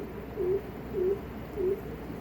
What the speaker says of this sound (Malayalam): ഉപ്പൻ ഇവിടെ കിടന്ന് ഒച്ചെടുക്കുന്നുണ്ട് കേട്ടോ.